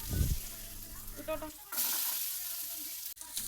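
Mustard seeds frying in hot oil in a home kitchen, a dense crackling sizzle with a louder burst at the start, continuing steadily throughout.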